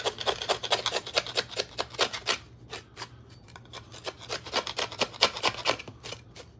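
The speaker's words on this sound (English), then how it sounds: "Just scraping off all the yucky stuff." Dense, rapid scraping and rasping as grime is scraped off a toy, in quick bursts of strokes with short pauses, close and fairly loud over a low steady hum.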